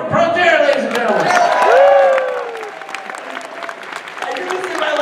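Convention panel crowd at MAGFest 2014 applauding and cheering, loud dense clapping with shouts and whoops, swelling then thinning, under a voice talking over it.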